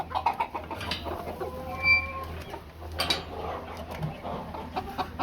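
Nagasaki and silkie chickens cluck on a farm, several birds giving short, irregular clucks and a few drawn-out calls at close range against a low steady hum.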